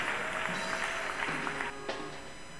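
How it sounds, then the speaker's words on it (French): A church congregation applauds and cheers to honor a woman pastor during a service, a dense wash of clapping and voices that holds steady, then eases slightly toward the end. "Nous la recevons avec des acclamations."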